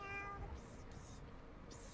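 A cat meows once in a maze level of a roleplay video game, a short, fairly faint harmonic call at the start followed by quiet background noise.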